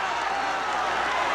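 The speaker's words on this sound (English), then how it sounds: "The crowd urging Ken Norton, perhaps many of them urging Ali, the 5-1 favorite, to come on" A boxing crowd at the Muhammad Ali versus Ken Norton fight roars steadily throughout, a dense wall of arena cheering and shouting with no break and no single voice standing out.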